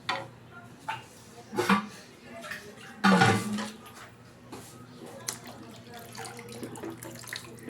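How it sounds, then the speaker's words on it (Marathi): Water poured into a simmering Malvani-style prawn curry, a brief splash and gurgle near 3 seconds amid faint kitchen clinks, with speech heard around it. "मी ह्याच्यात थोडंसं पाणी घालते कारण आम्हाला थोडा रस्साच हवा आहे."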